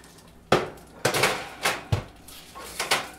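Metal tray of potato skins slid into a 400-degree oven, a few sharp clanks and bangs of metal against oven racks, separated by short pauses, close and fairly loud.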